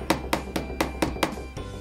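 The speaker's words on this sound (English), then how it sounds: "We've even tested it against a hammer." A hammer strikes a GlassX screen protector six times in a steady rhythm, each blow a sharp close knock with nobody speaking.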